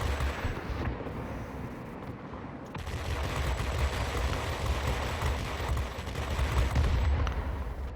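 Heavy aircraft machine guns firing in the World of Warplanes game, a dense continuous rattle blended with roaring engine noise, loud and sustained with brief breaks early on.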